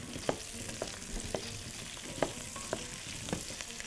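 Garlic cloves sizzle in hot oil in a pan while being stirred, a steady quiet frying hiss broken by soft scraping clinks of the spoon every second or so.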